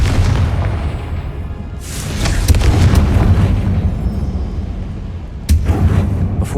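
A Confringo blasting spell in Hogwarts Legacy sets off a series of loud booming explosions with crackling bursts, followed by a sharp, sudden blast near the end.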